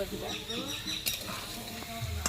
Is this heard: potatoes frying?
yes